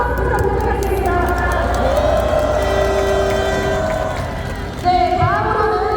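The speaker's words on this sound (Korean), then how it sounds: "큰 박수와 함성 부탁드리겠습니다" Large outdoor crowd at a national political protest rally cheering and roaring in a dense, continuous wash of voices, with amplified voices and tonal sounds mixed through it.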